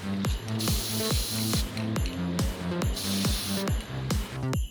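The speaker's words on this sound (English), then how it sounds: "Then I sealed it all up with a clear matte sealant spray." Clear matte sealant spray hisses from an aerosol can onto a custom action figure in two long bursts, loud and close, over a steady rhythmic thumping in the background.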